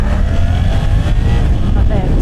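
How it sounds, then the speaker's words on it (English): A Suzuki GSX-8R motorcycle engine revved hard, a loud continuous close-up roar with a rider talking over it. "But when you're revving it hard"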